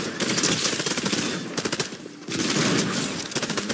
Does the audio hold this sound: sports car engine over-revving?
no